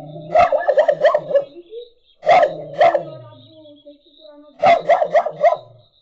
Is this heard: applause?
no